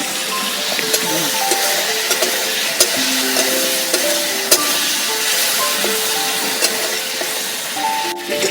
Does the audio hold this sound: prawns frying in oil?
yes